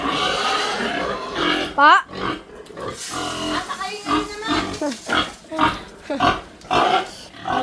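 Pigs oink and grunt in irregular bursts close by, mixed with people talking.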